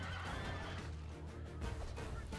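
Horses neighing amid the clash of a cavalry charge in the Rome Total War battle game, whinnies and animal cries rising over a dense, continuous roar of combat.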